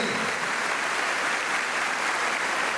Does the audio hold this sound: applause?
yes